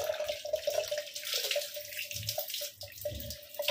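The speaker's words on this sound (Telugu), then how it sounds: "నేను ట్యాప్ వాటర్ పెడుతున్నాను" Tap water runs in a steady, moderate stream, splashing with a constant hiss and faint bubbling close by.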